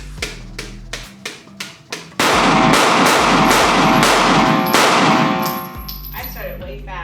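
Glock pistol fired at an indoor gun range: about six sharp, evenly spaced shots in the opening two seconds, then a loud sustained burst of dense, noisy clatter until near the end, with a few fainter knocks after.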